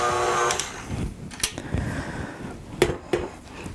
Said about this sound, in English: I'm going to just scrape this down a bit.